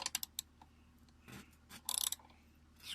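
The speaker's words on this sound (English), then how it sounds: "Then you take and you just screw that bolt in." A bolt is screwed in to mount a BMW car seat, with quiet metallic ratcheting clicks in short bursts, a brief scrape, then a quick run of tight clicks near the end, close and isolated.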